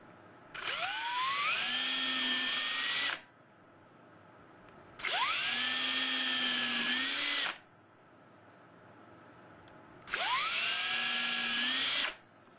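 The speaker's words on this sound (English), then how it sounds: "Drill the first one, skip one, drill the second one, and try to keep your drill straight up and down." A power drill whines in three long bursts of about two and a half seconds each, drilling holes in leather, separated by short pauses, close and loud.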